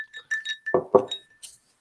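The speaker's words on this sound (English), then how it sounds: "this is the sound of a cup of her tears with ice" Ice cubes clinking in a cup: a few light glassy taps and chinks, then two fuller rattling knocks, close and clear, with short quiet gaps between.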